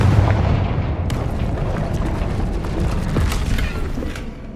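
A fiery spell blast booms in a fantasy wizard video game, a dense rumbling explosion that bursts loudly at the start and rolls on with crackling debris before fading.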